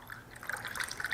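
Cherry juice poured into a drink, a faint, soft liquid trickle and splash that grows slightly busier toward the end, heard alone without talk.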